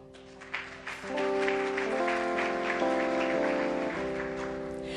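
A congregation at a church service breaks into sustained, dense clapping and cheering that starts after a few scattered claps and carries on loud and steady, with music playing underneath.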